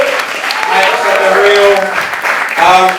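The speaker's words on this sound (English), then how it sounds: "can we get a wonderful round of applause" A concert crowd at the Roundhouse applauds and cheers, with voices audible over the clapping throughout.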